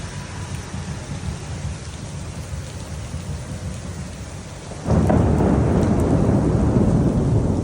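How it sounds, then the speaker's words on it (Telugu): A Singapore thunderstorm. Heavy rain hisses steadily, then a deep rumble of thunder swells in partway through and stays loud under the downpour. "చూడండి ఆ ఉరుము సౌండ్"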